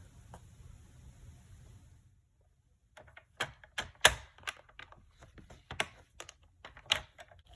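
Paper trimmer blade sliding and clicking through cardstock while scoring a triple easel card: a run of sharp, close, irregular clicks and snaps after a quiet start, with no talking.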